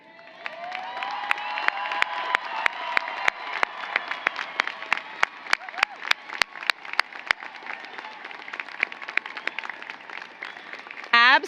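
Graduates at a university commencement ceremony cheer and applaud, a big hall full of clapping and shouting that builds and holds steady, with sharp individual claps and whoops standing out.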